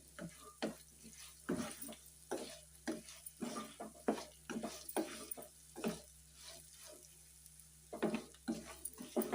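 Small bitter gourds fry in a pan with garlic and chili powder, giving a quiet, steady sizzle broken by frequent scraping stirs.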